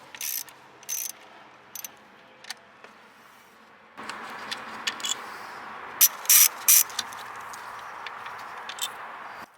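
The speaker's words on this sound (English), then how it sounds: "Then remove the 7mm bolt holding down the coils in place. You can use a ratchet" A ratchet loosening the 7mm coil bolt on a Mercury Grand Marquis engine, several short bursts of rapid metallic clicking separated by pauses, close and sharp, against a faint background hum.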